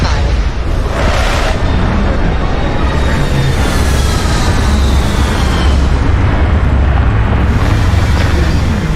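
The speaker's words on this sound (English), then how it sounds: "Retros firing." Starfield spaceship retro thrusters fire during a landing on frozen plains, a loud, continuous roaring rumble with deep bass that swells and holds throughout, with no pauses.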